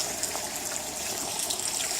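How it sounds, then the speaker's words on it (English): Steady gush of sea salt water poured over a freshly transplanted elephant ear (Alocasia) plant in a garden, a continuous close pouring hiss with no talking. "We're going to water it in with sea salt."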